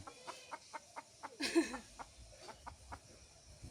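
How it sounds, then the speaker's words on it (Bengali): A chicken clucks in short, regular bursts in a quiet village setting, with a louder squawk near the middle and no talk over it. "এই মুরগি ধরবে যেতেছে"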